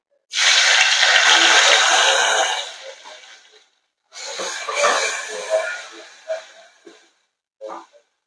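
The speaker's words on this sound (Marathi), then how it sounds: "आणि आता इथे आपल्याला टोमॅटो घालून घ्यायचंय." Tomatoes added to a hot pot of oil with a pinch of asafoetida hiss and sizzle loudly at once, the sizzle easing off, then flaring again in shorter bursts as the pan is stirred.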